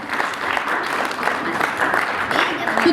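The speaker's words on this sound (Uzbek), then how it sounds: "Qarsaklar bilan olqishlab qo'yamiz." Applause rises from a crowd of children and adults at a school literacy celebration for first graders, a steady dense patter of clapping that runs throughout with voices faintly mixed in.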